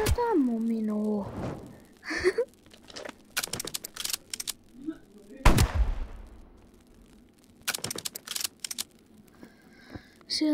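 Gunfire in the Roblox-style game 99 Nights in the Forest, scattered sharp shots and short bursts amid clicks and game effects, with gaps of quiet between them.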